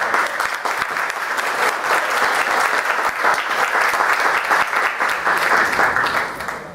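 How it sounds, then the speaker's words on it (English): An audience applauds loudly and continuously, many hands clapping in a dense, sustained wash that tapers slightly at the end. "I want to join the applause"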